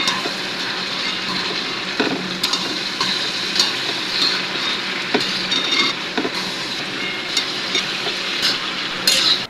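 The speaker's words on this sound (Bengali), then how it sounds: "তো সেই জন্য আসলে করলা ভাজি করা হচ্ছে" Bitter gourd (karela) frying in a pan with salt and turmeric gives a steady, dense sizzle throughout, with occasional light clicks and scrapes.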